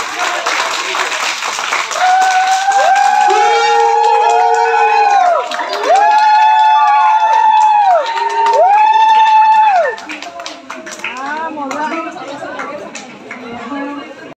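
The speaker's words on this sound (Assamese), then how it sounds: "সকলোৱে হাত চাপৰি বজাওক" An audience applauds and cheers at an event, clapping and crowd chatter running throughout beneath a loud amplified voice that sings or calls out in long drawn tones, then the voice stops and the crowd noise carries on alone.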